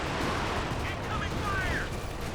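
A Panzerwerfer rocket artillery barrage in Company of Heroes 2 roars as a continuous, loud wash of explosions and whooshing rockets, with a few whistling streaks over the rumble.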